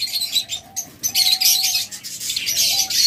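Blue opaline cockatiels chirp close by in a quick flurry of bright tweets, with a few sustained whistled notes, fairly loud and with no voices.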